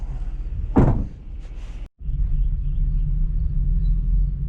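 A door swings shut with a single solid thud during curbside trash picking, followed by a steady low rumble in the background.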